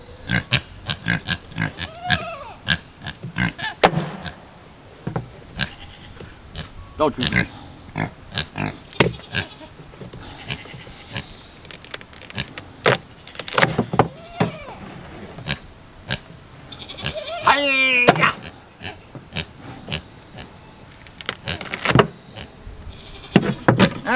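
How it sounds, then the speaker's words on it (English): Pigs on a homestead grunt and oink nearby in rapid, uneven bursts, mixed with squeals, clatter and knocks. A person speaks briefly among them. "right, you crazy pigs."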